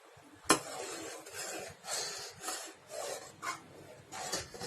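Thick homemade Ayurvedic cough lehyam, thickened with black pepper powder, stirred in a pan with rhythmic rasping scrapes, about one stroke every half second, after a sharp opening knock.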